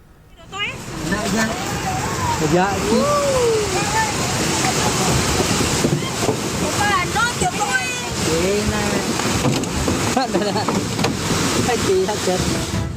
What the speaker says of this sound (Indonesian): Banjir bandang menerjang pemukiman penduduk di Desa Patiro Deceng, Kabupaten Maros, Sulawesi Selatan.